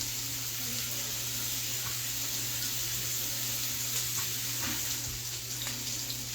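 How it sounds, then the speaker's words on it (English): Canned black beans are rinsed under a running kitchen tap, a steady hiss of flowing water with faint patters and clinks as they splash in the sink, close and continuous throughout. "I'm going to rinse out my black beans real quick"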